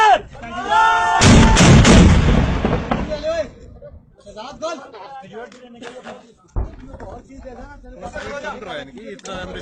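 Mortar fire in a combat setting: a heavy, loud blast with a long rumbling tail, then scattered further booms and gunfire under excited shouting voices.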